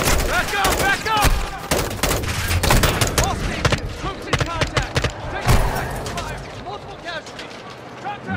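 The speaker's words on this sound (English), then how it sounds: "how many times they gonna shoot me as I'm driving away" In Call of Duty: Modern Warfare II, shooters fire at a vehicle as it drives away: loud, sharp shots and bursts crack rapidly over an engine rumble, tapering off near the end, with voices talking in between.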